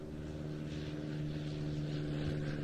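Piper L4 Cub propeller aircraft fly past at an airshow, giving a steady droning buzz of engine and propeller that holds constant and fairly loud throughout, with no voices.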